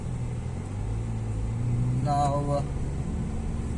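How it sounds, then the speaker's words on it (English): A Hyundai Veloster 1.6 turbo engine drones steadily inside the cabin on twisty roads in Muscat, a low continuous rumble that builds under a man's speech. "the turbo is really kicking in so good"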